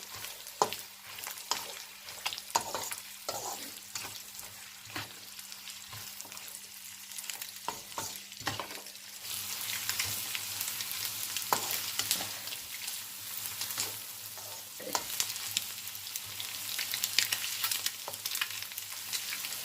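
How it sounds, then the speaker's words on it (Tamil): Chinese fried rice with egg stirred in a pan, a steady low sizzle broken by repeated sharp scrapes and clanks of the spoon against the pan, fairly quiet and with no talking. "எல்லாம் சேர்த்து ஒரு தடவை நல்லா மிக்ஸ் பண்ணி விட்டுருவோம்."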